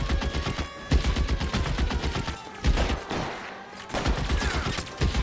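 Rapid gunfire in an L.A. Noire shootout, dense bursts of loud close shots rattling almost continuously with brief pauses between volleys.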